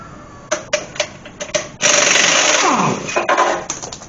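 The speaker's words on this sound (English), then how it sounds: "Compressor's juiced up. Full shot of 100-pound air." An air tool runs on 100 psi compressed air from a compressor during rear brake work on a Dodge Ram dually truck: several short sharp pneumatic bursts, then one longer loud hissing, whirring run that winds down, followed by more quick bursts.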